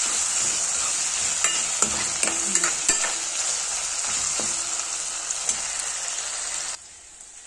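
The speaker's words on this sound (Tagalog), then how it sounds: "lulutuin muna natin yung kamatis hanggang sa durog na durog siya" Tomatoes cooking down in a hot pan, a steady close sizzle broken by repeated scraping clicks of stirring, ending abruptly as the frying quiets.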